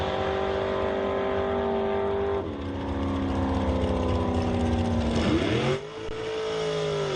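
Engines rev at high pitch during an ET drag race between a dragster and a 1967 Chevrolet Corvette, with strong tones sliding through gear shifts and a sharp drop as one car passes close.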